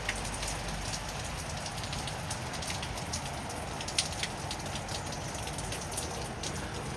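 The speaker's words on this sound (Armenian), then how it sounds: "Անդադար անձրև է գալիս" Heavy, unceasing rain pours down at night, a dense, even hiss of drops hitting surfaces with occasional sharper taps, constant from start to finish.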